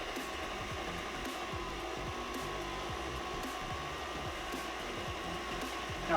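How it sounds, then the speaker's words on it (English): A KitchenAid pasta roller attachment runs with bread fed through to clean grease off its rollers, giving a steady motor whine with faint rhythmic mechanical ticking throughout. "now it's scraping off all of that grease from the rollers"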